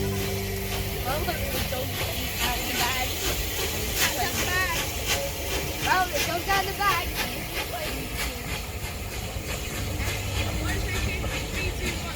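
Steady rumbling and clattering of a steam train in motion, heard from inside, with a constant hiss and muffled voices chattering underneath throughout.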